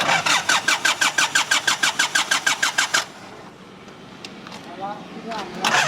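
A Nissan Big M Frontier pickup's engine cranks with a fast rhythmic starter chug for about three seconds, then fails to catch and drops to a quiet murmur. Faint voices and small clicks follow.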